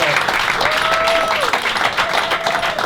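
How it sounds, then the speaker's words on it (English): Applause rises from an audience at a club evening, a steady wash of clapping filling the clip, with a brief tonal sound and some voices mixed in beneath it. "So let's give a big cheer."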